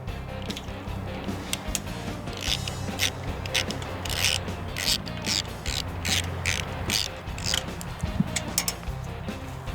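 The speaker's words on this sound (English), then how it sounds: "So I'm gonna take my carb off here and check it." A ratchet wrench clicks in quick repeated bursts while loosening the carburetor bolts on a power washer that won't start, close and steady with faint metallic creaks between strokes and no talking.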